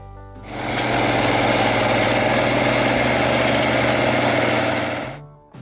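A 1066 tractor's 6-cylinder 414-cubic-inch diesel engine runs at a steady, loud, close drone, rising at the start and cutting off near the end.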